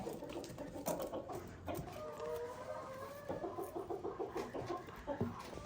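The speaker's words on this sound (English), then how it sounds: "Hi, turkeys." Farm turkeys cluck and gobble close by, with a rapid run of pulsing calls toward the end and soft yard noise in between, and no one speaking.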